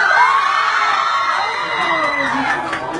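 A crowd of fans at a Sandara Park appearance shouts and cheers loudly and continuously, with high excited voices and whoops blending into a dense roar.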